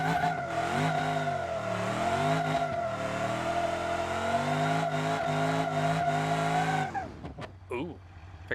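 A car in BeamNG.Drive revs hard into a burnout, engine droning and rising in pitch while tires squeal loudly for several seconds, then the engine cuts back near the end.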